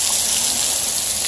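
Steady rain falling in Los Angeles, a dense continuous hiss of drops on surfaces, close and fairly loud with no talk.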